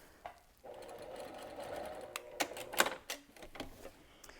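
A sewing machine top stitching bulky insulated layers of a lunch sack with a lengthened stitch hums in a quiet, steady whir, with a few sharper clicks toward the end.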